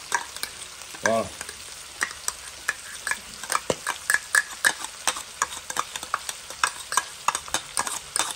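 Garlic and spices fry in hot oil for a smoked potato dish, a bright crackling sizzle with frequent sharp spatula scrapes and stirring knocks; a brief word is spoken.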